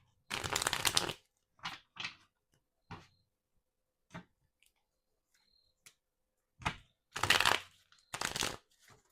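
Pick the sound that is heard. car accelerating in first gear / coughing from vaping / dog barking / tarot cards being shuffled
tarot cards being shuffled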